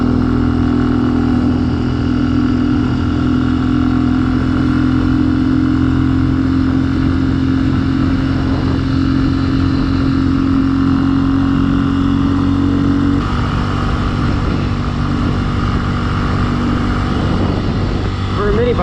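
A 2021 Benelli TNT135 motorcycle cruising at a steady 6,000 RPM, its engine note a constant loud drone with a held whine, close to the rider and continuous throughout, with a slight shift in tone near the end.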